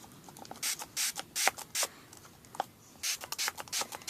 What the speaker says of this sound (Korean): 한번 물을 줘볼게요. 스프레이. 이게 스프레이거든요.